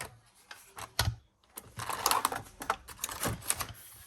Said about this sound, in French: il faut vraiment appuyer fort pour pouvoir percer notre papier